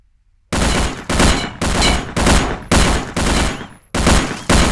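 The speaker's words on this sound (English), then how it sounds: "Shoot at the wall so that your bullet rebounds and hits the target" Seven loud, evenly spaced gunshots from a handgun in the El Matador shooting game, each a sharp crack with a short decaying tail, fired at a wall so the bullets ricochet into a target; no talk.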